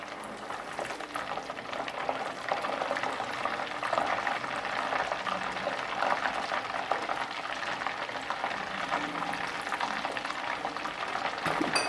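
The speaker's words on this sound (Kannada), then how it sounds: "ನೀರನ್ನು ಹಾಕಿದಾಗ ಸೌಂಡ್ ಬರುತ್ತೆ" Nearly finished homemade ghee sizzles and crackles after a little water is sprinkled into the hot pan, a close, busy frying and bubbling sound that keeps up steadily throughout.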